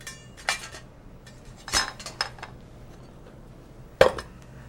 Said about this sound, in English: Drain the water off of them.